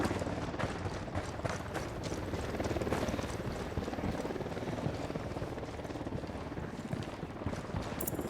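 A helicopter in Ghost Recon Wildlands gives off a continuous, fairly faint rotor chop and rumble, steady throughout, mixed with scattered game noises.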